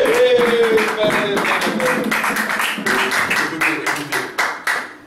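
Clapping from a church congregation, a steady stream of hand claps under voices and a sung or called tone, breaking into distinct sharp claps toward the end.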